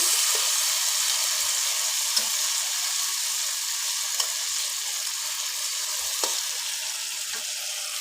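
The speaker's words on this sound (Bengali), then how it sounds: "পেঁয়াজটা একটু ভাজা ভাজা হোক আমি এতে কিছুটা টমেটো দিয়ে দিয়েছি টমেটোটা একটু ভালোভাবে নেড়ে চেড়ে নিচ্ছি" Onion and tomato fry and are stirred in a pan for a home-cooked fish and summer vegetable dish, giving a steady close sizzle broken by occasional scrape and clink taps of the stirring utensil, with no talking.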